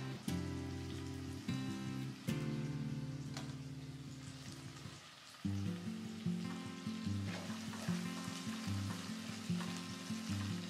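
Onions fry in a pan toward golden brown, giving a steady sizzle with scattered crackles and stirring scrapes, set against a constant low droning hum.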